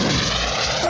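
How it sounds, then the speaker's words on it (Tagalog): A toy airplane sound effect plays alone as a steady, broadband airplane roar that holds at a constant loudness for just under a second, with no voices over it. "iyon ay tunog ng eroplano"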